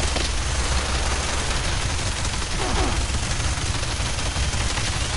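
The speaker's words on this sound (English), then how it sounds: "Face full of minigun there." A minigun in Fallout 76 fires without a break for several seconds, a dense, loud, steady roar of rapid gunfire that drowns out everything else.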